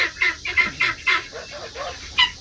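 Guinea fowl calling loudly and repeatedly, a series of harsh, close squawks in an uneven rhythm, with no speech.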